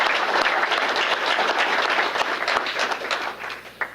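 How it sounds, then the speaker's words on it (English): An audience claps steadily for an award nominee from the Public Works and Facilities Department at a city hall employee recognition ceremony, a dense, sustained round of applause that tapers off slightly near the end. "How about a round of applause for him?"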